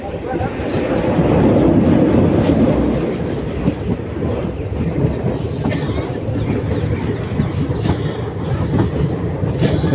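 A South Indian Railway train runs through forest on the hilly Dharmapuri to Salem route, with a loud, continuous rumble and rhythmic clatter of wheels on track heard close from on board.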